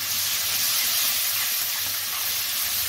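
Chopped tomatoes sizzle in a pan of lightly fried onions, a loud, steady hiss running unbroken and close throughout.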